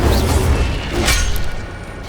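An Incendio fire spell bursts in Hogwarts Legacy, a loud close whooshing roar with a rumbling low boom that swells and fades over two seconds, no voices.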